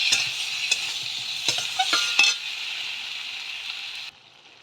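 Spices such as cumin powder and Kashmiri chilli powder sautéed with pointed gourd in a pan for a prawn and gourd curry: steady close sizzling with several sharp spatula scrapes and clinks, the frying dropping lower near the end, no talking.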